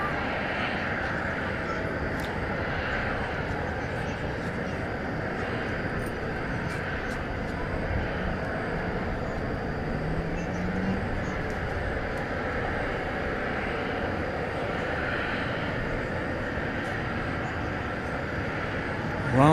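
A Boeing 737-800 airliner at DFW Airport gives off a continuous broad jet engine roar that stays steady and fairly distant for the whole stretch.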